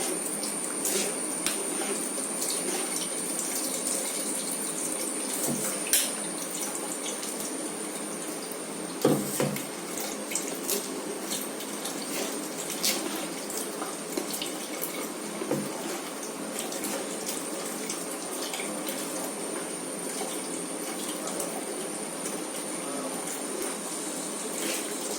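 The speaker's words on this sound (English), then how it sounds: "Just strain the complete liquid." Beetroot syrup liquid pours through a strainer in a steady, continuous watery trickle that runs evenly throughout, with a couple of faint knocks and no talking.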